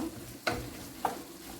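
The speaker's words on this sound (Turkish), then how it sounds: "Burada da yemeğim kaynıyor." Food bubbling in a pot on a home stove is stirred twice with a utensil, two short scraping sweeps over a faint, steady simmer, close by and quiet.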